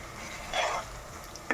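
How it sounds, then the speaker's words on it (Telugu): Ginger garlic paste frying in a pan for a country chicken curry, a soft steady sizzle with a brief scrape of stirring, close and quiet, no talk. "అల్లం చిన్నులపాయ పేస్ట్ వేగాలండి."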